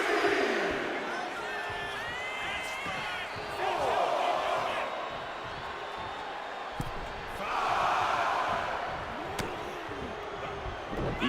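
A WWE 2K25 arena crowd roars in steady waves during a wrestling match, swelling louder twice, with sharp thuds and bounces from the ring and commentary voices over it.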